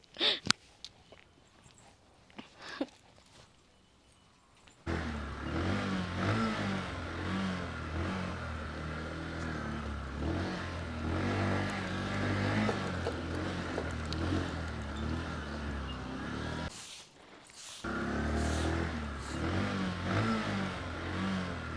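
A vehicle engine revs up loudly and holds a steady, droning roar for over ten seconds, briefly cutting out and then returning, after a quieter stretch of scattered noises.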